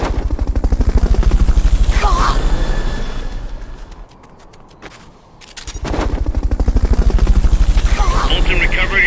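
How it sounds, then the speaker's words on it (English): Rotor chopping of a helicopter in Metal Gear Solid Peace Walker, a loud rapid pulsing beat that swells, drops away in the middle, then returns strongly. "Fulton recovery helicopter is complete."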